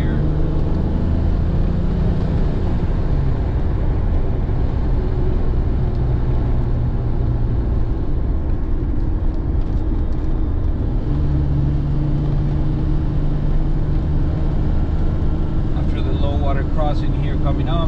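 A 1988 BMW M5 E28 engine while driving and overtaking: a loud, continuous drone with steady low rumble and shifting pitch as the car pulls past traffic, with a voice talking over it throughout.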